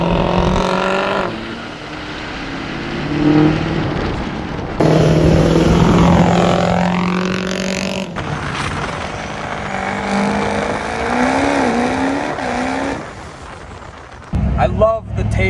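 A Ford 6.4 Powerstroke diesel truck revs hard in a Walmart parking lot, its engine note swooping up and down through repeated loud throttle blips and idle dips, with voices talking over it.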